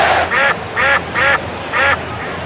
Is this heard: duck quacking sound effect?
yes